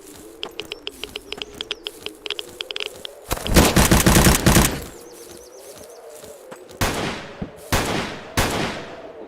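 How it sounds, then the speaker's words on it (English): Gunfire in the pixel-art survival shooter ZERO Sievert: a run of quick, sharp single shots, then a loud extended burst, and later several more bursts of shots, fairly close. "I can tell that those gunshots are coming from that side"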